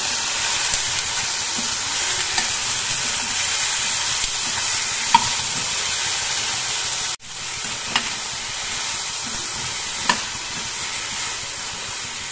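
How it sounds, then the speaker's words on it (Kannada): Carrots and fresh green peas stirred and frying in a pan for a hotel-style vegetable kurma, a steady close sizzle with soft scraping stirs and a brief break partway through. "ಈಗ ಎಲ್ಲ ಕೂಡ ಮಿಕ್ಸ್ ಮಾಡೋಣ"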